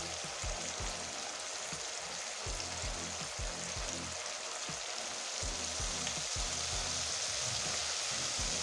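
Spices going one by one into hot oil for a Bengali-style chapila fish curry give a steady, close sizzle and crackle with soft rhythmic taps, and no one speaks.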